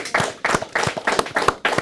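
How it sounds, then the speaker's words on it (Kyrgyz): Audience in a TV quiz show studio claps hands in a quick, regular rhythm of about six sharp bursts, close and clear with no talking. "Бишкек шаарынан кол чаап коюңуздар."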